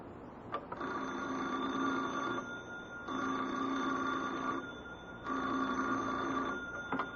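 Old-time radio telephone bell effect rings in a store setting: three long electric bell bursts, each about one and a half seconds, separated by short pauses, loud and close with no voices.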